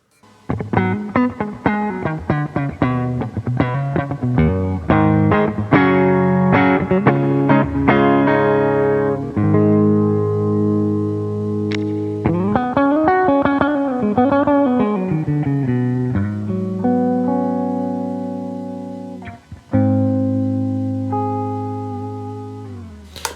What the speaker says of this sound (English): For a spring reverb, I like to hear a bit more top end, so I'm gonna bring it up to 6K.